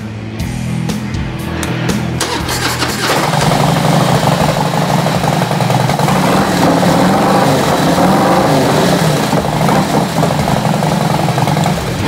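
Touring motorcycle fitted with a Vance & Hines true dual exhaust idling, a deep steady rumble that settles in after a few seconds of clatter, loud and close, no talking over it.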